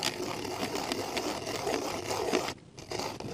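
A dinosaur-shaped pencil sharpener grinds as a pencil is turned in it, a continuous gritty whirring scrape up close that briefly cuts out near the end before resuming.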